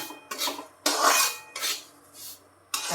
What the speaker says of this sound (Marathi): भाजत आलाय आपला रवा हा